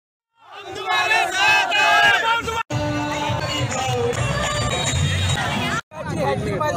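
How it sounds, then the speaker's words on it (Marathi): A large crowd celebrates an election victory in Badnera, Amravati, with loud sustained cheering, shouting and chanting voices continuing throughout, briefly cut twice. "त्यांच्या विजयाचा जल्लोष हा वडनेरमध्ये मोठ्या उत्साहात साजरा करण्यात आला."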